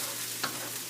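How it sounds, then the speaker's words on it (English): Onions frying in a pan for achari chicken, a continuous close hiss of sizzling oil with one faint scrape, steady throughout the short moment. "Then we add the onions. And fry"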